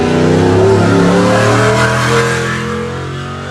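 An off-road race vehicle on a qualifying run at the High Desert 100 roars loudly and close, its engine holding a strained pitch before easing slightly as it fades a little.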